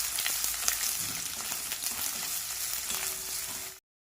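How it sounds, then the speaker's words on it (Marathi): Onion sizzles in about two spoons of hot oil, a dense, steady crackle and hiss close by with a few light stirring scrapes, cutting off abruptly at the end. "कांदा टाकून घ्यायचा आहे. 2 मिनिट छान परतून घ्यायचा आहे."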